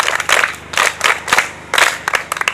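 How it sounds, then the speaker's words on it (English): An audience applauds a teacher with several short bursts of hand clapping separated by brief pauses, fairly loud and close, with no talking over it. "A hand clap to Teacher Justin."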